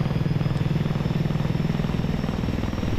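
A VTOL aircraft engine in the flight simulator game X-Plane 11 drones continuously with a rapid, even rotor-like throb, loud and steady throughout with no voices.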